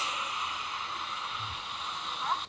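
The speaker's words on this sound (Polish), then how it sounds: "A, tutaj! Ten wodospad." A waterfall pours with a steady, even rushing roar that holds constant throughout, fairly loud and close, with no one speaking.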